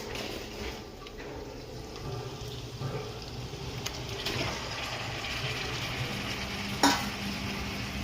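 Marinated food seasoned with lemon, salt and turmeric fries in a pan, giving a soft continuous sizzle with occasional stirring scrapes and one sharp clink near the end, fairly quiet and with no talk.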